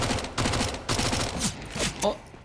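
Counter-Strike match on Mirage at a DreamHack Showdown grand final, with bursts of SMG and AK-47 gunfire in rapid volleys under steady commentator talk.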